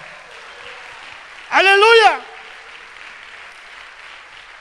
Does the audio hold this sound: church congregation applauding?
yes